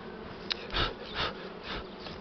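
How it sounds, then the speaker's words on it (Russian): Buckfast honey bees buzz at an open hive, a close, dense drone that swells in several surges, with brief rubbing and handling noises among them. "Вот сколько тут пчел сидит"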